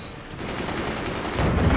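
Rapid, continuous machine-gun fire rattles loudly in the game Forts, firing in a sustained burst that grows a bit heavier toward the end.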